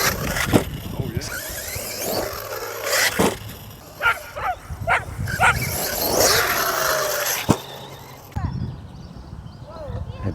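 Dogs bark in short scattered bursts near an Arrma Kraton 6S RC car, mixed with rattling outdoor handling noise and people talking.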